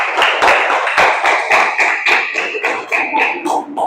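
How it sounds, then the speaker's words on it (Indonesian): A class of children claps for a classmate, a burst of quick overlapping hand claps that are loud, near and fairly rhythmic, with no talk. "Tepuk tangan untuk teman kalian."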